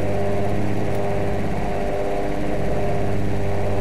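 A high-revving F1 engine built in the Automation video game idles at 2000 rpm, a steady, buzzing drone that holds loud and even throughout.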